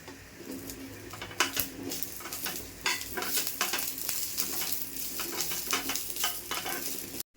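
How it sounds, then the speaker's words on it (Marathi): Ginger, garlic and red chillies fry with browned onion in a pan for an egg curry, giving steady sizzling with repeated stirring scrapes and clinks of a spoon, and no voices. "आता मी आलं टाकते आणि लसूण त्यातच या लाल मिरच्या पण टाकून घेते"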